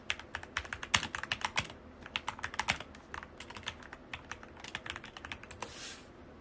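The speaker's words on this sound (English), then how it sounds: "First, let's type in the name of our song." Typing a song title on a computer keyboard: rapid bursts of close, sharp key clicks in quick irregular runs with short pauses between words, quiet and alone with no talk.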